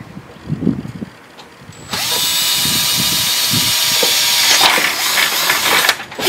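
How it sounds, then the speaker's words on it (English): A power drill bores into a Ford F-150 truck body for an LED light bracket screw, a loud steady whine that starts after about two seconds of quiet handling noise and runs to the end. "We're going to drill right here."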